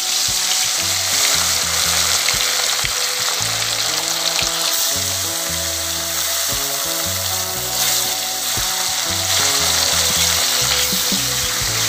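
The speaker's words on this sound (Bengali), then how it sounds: "তেল গরম হয়ে গেছে, এবার মাছ দিচ্ছি।" Fish frying in hot oil for a bottle gourd and small-fish dish, a loud, steady sizzle that holds from start to finish, with faint stirring under it and no talk.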